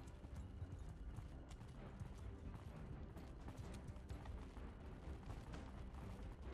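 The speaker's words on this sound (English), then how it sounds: "I'm going to stay mobile on my horse" Horse hooves clip-clop in the medieval combat game Bannerlord during a siege battle, a dense, fast patter of many hoofbeats mixed into a constant roar of army noise, faint and low in level throughout.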